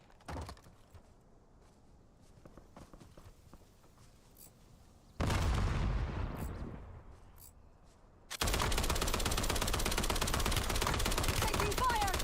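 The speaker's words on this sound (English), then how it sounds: "Taking fire." Bursts of automatic gunfire in Black Ops Royale, a battle royale video game, hammer in sharp and loud, building into a dense sustained volley with no voice over it.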